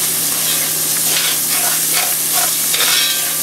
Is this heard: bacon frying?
yes